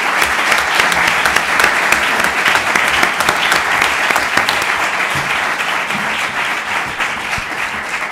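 A final round of applause for the speakers at the closing of a conference day fills the room, loud, dense and continuous clapping from a sizable audience that holds steady with only a slight easing toward the end.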